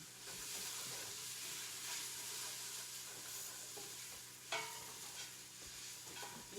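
Chili with spices gets stirred in a pot, a faint, steady low sizzle with soft scraping strokes and a couple of sharper spoon knocks against the side, no voices.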